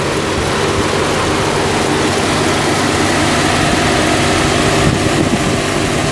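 A 2012 GMC Acadia with the 3.6 VVT direct-injection engine runs steadily at idle, heard up close as a loud, even, broadband hum and whir without any voices.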